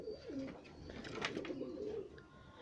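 Homing pigeons cooing softly in a coop, several low rolling coos overlapping with a few faint chirps, fairly quiet and without speech.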